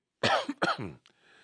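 A person coughs twice in quick succession, close and loud, then gives a short throat-clearing sound.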